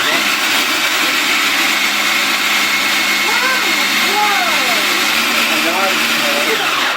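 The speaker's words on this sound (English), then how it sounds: "Add pinto beans and process until smooth." Food processor whirring steadily as it purées pinto beans, a loud constant motor drone with people talking over it.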